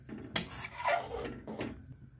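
A spoon scrapes and knocks against a cooking pot as boiled dal is stirred into fried spices, giving a few soft clinks and rubbing strokes at low volume.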